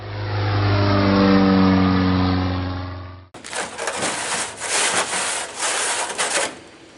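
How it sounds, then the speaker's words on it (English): Sandpaper wrapped around a yogurt bucket rubs against the nose ring of a Zenith Cruzer aircraft in a steady, close, raspy scrubbing. It comes right after a loud droning hum that cuts off abruptly. "Sanding the nose ring of the cow."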